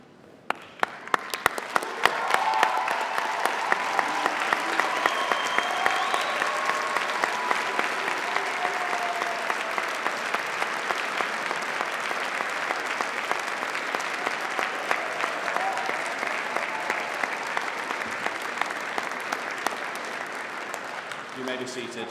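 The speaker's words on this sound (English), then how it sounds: "join me in giving them a well-deserved round of applause" Sustained, dense applause fills a university graduation ceremony hall, a large audience clapping loudly and continuously for over twenty seconds, beginning with a few scattered claps.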